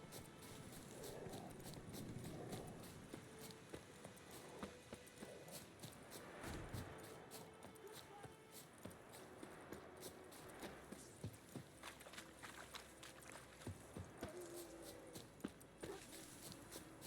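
Horse hooves clip-clop in a steady galloping rhythm in The Witcher 3, mixed with game ambience and scattered footfalls, moderately loud throughout.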